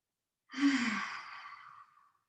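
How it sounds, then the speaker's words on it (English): A single long, deep exhale during a beginner yoga class, a soft breathy rush that swells quickly and tapers away over about a second and a half, close and alone. "let's take 3 breaths here together"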